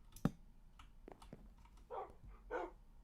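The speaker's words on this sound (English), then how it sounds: "I've never raised Minecraft dogs before" Minecraft dogs in a video game give a few short barks and whimpers, one sharp yip near the start followed by softer whines, faint and up close with no talking.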